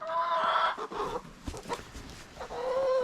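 Chickens, hens, cluck and squawk close by inside a hatchery coop, with shrill calls at the start and end and softer clucking between them. The space sounds enclosed, and nobody talks.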